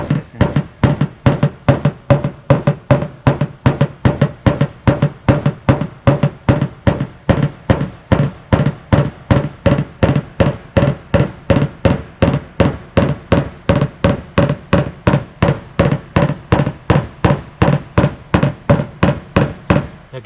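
A small hammer taps out dents in the metal bodywork of a classic car, striking in a fast, even, unbroken rhythm of sharp metallic blows, close and loud, with no talking.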